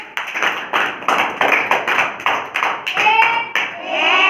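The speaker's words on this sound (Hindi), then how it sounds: "तालियां बजाओ।" Hands clap in a steady, evenly spaced rhythm of about nine sharp, close claps, then give way to a brief rougher patter of clapping at the end.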